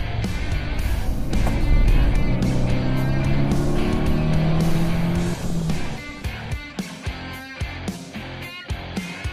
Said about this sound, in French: Après un dernier essai de freinage, il repart au garage.